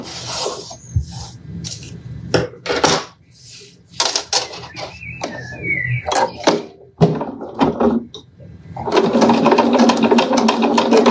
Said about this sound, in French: Et voilà, ma petite surpiqûre.